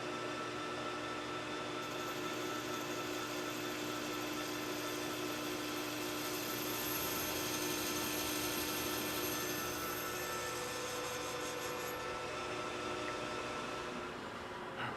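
A lathe cutting thread relief in DOM tubing: a steady, continuous machining whir with a faint high-pitched cutting whine, holding even for about fifteen seconds with no talking.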